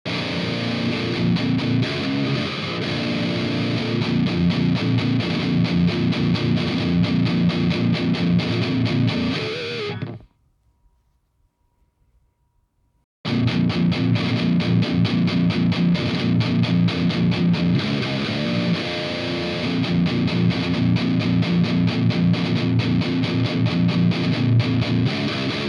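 An electric guitar played with a Flex Jazz III pick runs through a distorted amp in a dense, sustained roar, breaks off into about three seconds of silence, then comes back just as loud and saturated.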